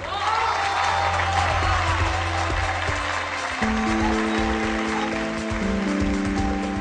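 Studio audience applause during an Eid special political comedy show on Dunya News, a dense steady patter of clapping filling the clip, with sustained musical tones entering partway through.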